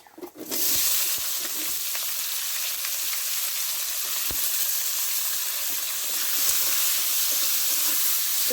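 Sliced onions hit hot oil in a pan for chicken curry and erupt into a loud, steady sizzle that starts abruptly and keeps hissing evenly, with a few faint clinks from the pan.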